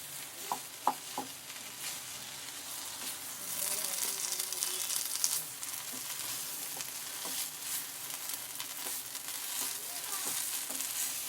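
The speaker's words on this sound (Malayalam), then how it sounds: "ഇതെല്ലാം കൂടി നല്ലതുപോലെ ഒന്ന് മിക്സ് ചെയ്തെടുക്കണം" Potato and onion filling is stirred in a hot pan, a steady close sizzle with scraping strokes of a spoon and a few sharp clinks near the start, no one speaking.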